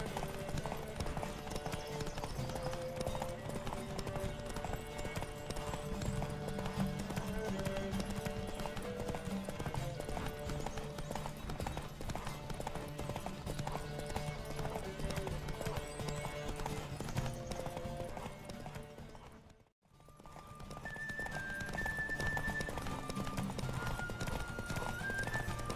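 Horses gallop in a fast race in The Witcher 3 video game, with steady rapid hoofbeats, neighs and game music throughout, breaking off in a brief near-silence before the galloping resumes.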